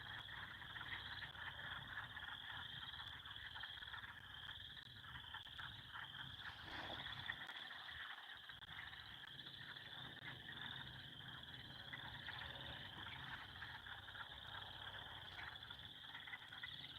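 A chorus of frogs croaks steadily on a calm, windless night, the calls dense and continuous throughout, with a brief quieter dip partway through and no one talking.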